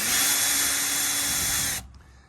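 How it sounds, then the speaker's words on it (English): A power drill spins steadily as it taps a thread into a hole while building a removable bed for a Sprinter van, whining loudly for nearly two seconds and then cutting off abruptly. "And we've just basically tapped a thread there."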